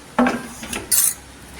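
A spoon scrapes and clinks against a plate as ground garam masala is transferred onto it: two or three short, close scraping taps over a quiet background.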